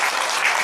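Audience applause at a Balinese comedy show at Pura Puseh in Gianyar, Bali: a dense, steady wash of many hands clapping together, loud and close, with no voices on top.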